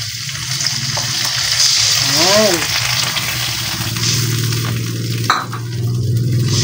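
Sauce poured into a pan of frying milkfish steak and onions hisses into a loud, steady sizzle with some stirring and clinks, while a voice talks over it.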